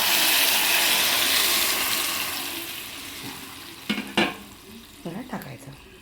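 Drumstick rasam is poured onto a hot mustard-seed tempering, and a loud sizzling hiss rises and slowly dies away. A few sharp clatters of a utensil follow near the end.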